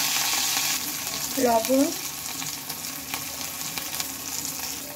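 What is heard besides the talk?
ground spice paste and turmeric frying in oil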